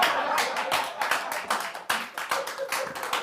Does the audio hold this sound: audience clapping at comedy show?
yes